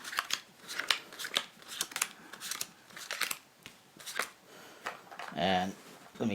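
A deck of playing cards is mixed for a card trick as a series of quick riffling, flicking bursts. The bursts come close up in uneven rhythm, followed by a brief spoken voice near the end.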